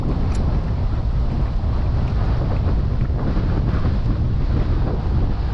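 Strong wind roaring steadily across the microphone on the Pechora River during a spinning-rod fishing trip, a constant heavy rumble with a faint wash of water beneath it.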